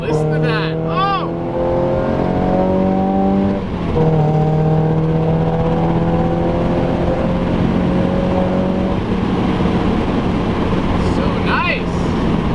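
Engine of an NB Mazda Miata drift car revving loudly under steady load, a strong continuous drone with rising pitch sweeps and a brief dip near four seconds, while a person talks over it.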